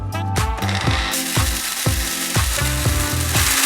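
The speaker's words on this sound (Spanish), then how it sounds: "Vamos a colocar 2 cucharitas de arroz en una licuadora" A blender grinds two teaspoons of rice, a loud continuous whirring roar with rattling, pulsing grains churning throughout and no speech.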